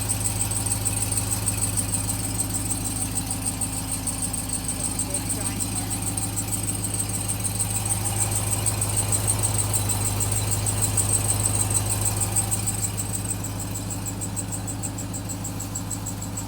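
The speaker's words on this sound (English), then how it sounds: "the first issue we're gonna talk about is that exhaust ticking sound" A 2021 Ram TRX truck idling with a steady exhaust tick, a rapid rhythmic ticking over a low engine drone, close and continuous, with a person talking now and then.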